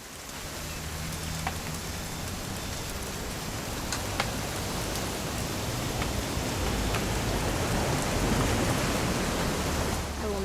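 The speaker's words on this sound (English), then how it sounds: "It's gonna rain the whole weekend, isn't it?" Rain falls continuously in What Remains of Edith Finch, a broad steady wash of drops that swells slightly over time, with occasional sharper drips and a low rumble beneath, no talking.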